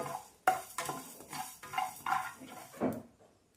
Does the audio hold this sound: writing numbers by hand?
no